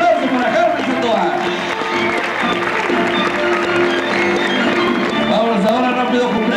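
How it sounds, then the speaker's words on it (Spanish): Steady crowd applause fills a rodeo arena after a barrel racing rider's run, loud and continuous, with an announcer's voice speaking over the clapping. "Fuerte el aplauso para Carmen Sandoval."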